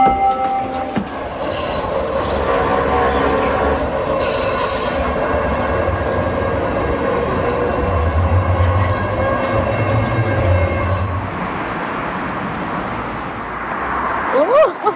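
Tram running on rails in Sheffield, with a steady rumble, tonal whine and wheel squeal toward the end; people talk briefly over the ride noise.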